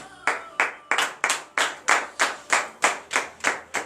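Steady, rhythmic clapping at a church morning prayer service in Benin, at a brisk even pace, about three claps per second, with a dozen or so sharp claps and no voices.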